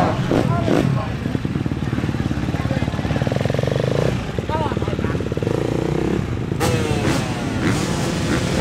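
Motocross motorcycles race in the MX2 Open at an AMCA championship meeting, a dense and loud roar of engines revving and shifting close by, with a commentator speaking over them.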